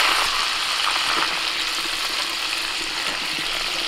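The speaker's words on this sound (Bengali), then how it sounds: "কড়াইতে যে তেলটা আছে ওর মধ্যে দিয়ে দিচ্ছি আলু" Potatoes fry in hot oil in a wok: a loud, continuous bright sizzle with scattered crackles and pops, close up and alone.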